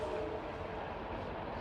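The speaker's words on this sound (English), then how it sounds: "Did you guys hear that? That was a train." A train rumbles past at a distance as a steady low roar with a broad hiss above it, with no break across the clip.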